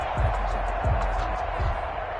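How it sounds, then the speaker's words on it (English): Stadium crowd roars continuously in an American football video game, Los Angeles Rams at Seattle Seahawks, a steady loud wash of cheering with low rhythmic thumps. "That just means this crowd's going to get even louder."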